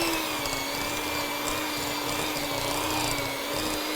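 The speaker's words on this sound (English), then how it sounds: "Wow, it's very aggressive on 1." A cheap hand mixer on its lowest speed creams butter with brown and white sugar, giving a loud, steady, high-pitched motor whine with a constant buzzing drone throughout.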